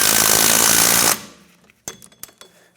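A power tool snugs the rear wheel hub bearing bolts on a 2011-2016 Hyundai Elantra: a loud, steady burst of about a second cuts off abruptly, followed by a few sharp metallic clicks and clanks nearby.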